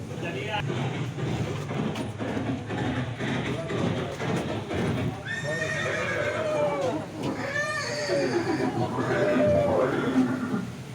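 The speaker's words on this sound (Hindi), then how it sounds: "ये दृश्य महाराणा प्रताप और सुविख्यात स्वामी भक्त घोड़े चेतक के अंतिम मिलन का है।" Horse neighs ring out in several rising and falling whinnies in the second half of a dramatized farewell scene between Maharana Pratap and his warhorse Chetak, over a busy background with voices.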